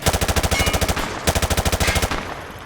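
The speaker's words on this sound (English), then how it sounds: "Grab that weapon off the table and fire at the targets behind you." Full-auto weapon fire in Modern Warfare 2, two loud, close bursts of rapid, evenly spaced shots with a brief break between them.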